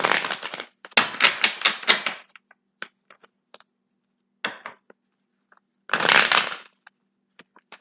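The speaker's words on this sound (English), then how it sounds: "One more shuffle." Tarot cards are shuffled by hand in quick riffling bursts, a run of crisp rapid flutters followed by scattered taps and a final longer riffle, close and clear with quiet gaps between.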